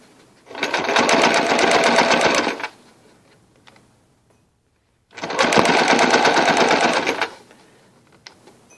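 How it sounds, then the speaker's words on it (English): A sewing machine stitching fabric along a basted line, heard as two loud, fast, steady runs of rattling stitching about two seconds each, separated by a short pause, close by and with no talking. "I'm going to stitch right on that basted stitch line."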